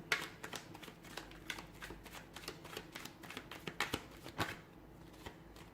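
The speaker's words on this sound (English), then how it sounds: "Give the cards a shuffle" Rapid riffling and flicking of a tarot reading's cards being shuffled, a dense run of crisp paper snaps repeating over several seconds, close and fairly quiet.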